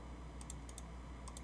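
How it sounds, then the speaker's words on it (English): Rapid mouse clicks come in three quick doubled pairs, each pair a sharp, close tick, over a steady low hum during a modded Minecraft crafting session. "Mouse is double clicking."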